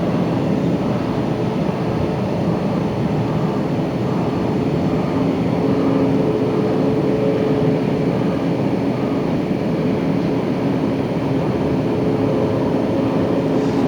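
A Japan Airlines airliner, registration JA871A, bound for Narita at Los Angeles International Airport, roars loudly and steadily with broadband jet engine noise and a sustained low rumble throughout, with no speech.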